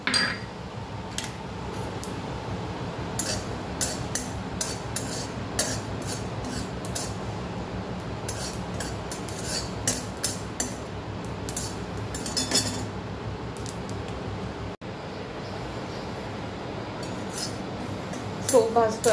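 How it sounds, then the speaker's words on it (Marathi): Fennel seeds dry-roasting in a kadhai, with frequent light clinks and scrapes of a spatula stirring against the metal over a low background hum. "सोफ भाजतोय आपण."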